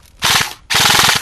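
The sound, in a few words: airsoft gun shooting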